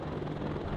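Helicopter in the WARNO real-time strategy game, a steady low rotor drone with broadband whir holding at even loudness through a brief moment, no talk over it.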